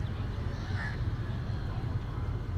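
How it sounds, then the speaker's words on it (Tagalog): Crows cawing around a harbour creek in the morning, a steady wash of calls over constant low background rumble, moderately distant and continuous. "Yan na, ang daming ibon."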